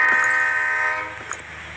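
A spider train's horn in a Roblox game sounds as one loud, sustained horn blast that fades after about a second, with a short faint tone near the end.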